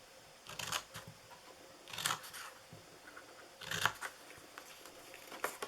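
Scissors snip along the sides of a small paper Christmas treat box in a few short bursts, close and crisp, with quiet pauses between the cuts.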